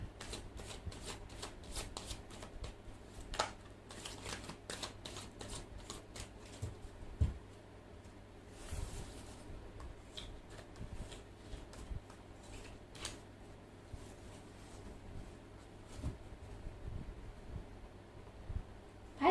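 Three Kingdoms fortune-telling cards are shuffled in a steady run of soft riffling flicks and taps, close and fairly quiet, over a low constant hum, with no talking.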